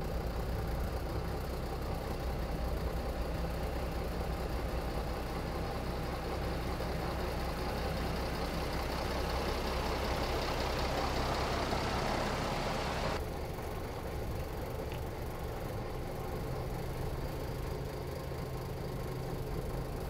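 A renovated Volvo F88 truck's engine runs steadily at a low rumble while the truck reverses, a continuous, fairly close diesel drone that eases slightly partway through.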